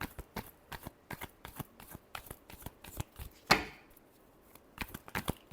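Tarot cards being shuffled, a rapid run of crisp riffling flicks and taps close up with one louder burst near the end, no talking over it.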